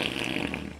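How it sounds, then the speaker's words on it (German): A loud, sustained fart sound effect from the Roblox game Brookhaven, lasting just under a second and heard alone with steady loudness that fades slightly at the end. "Alter, mein Vater hat hier mega laut gefurzt"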